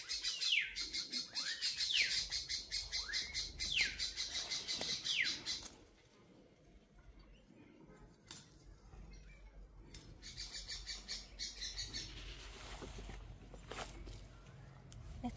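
Birds chirp and call outdoors in a bushy, wild-looking field among chipilín plants, with bursts of lively tweeting that fade to near quiet and then come back in a second chorus. A person talks softly in the background.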